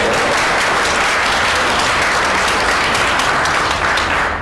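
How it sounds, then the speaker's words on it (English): Warm welcoming applause from an audience at an event, dense continuous clapping that stays loud and even throughout before easing slightly at the very end. "So please join me in a warm applause of welcome."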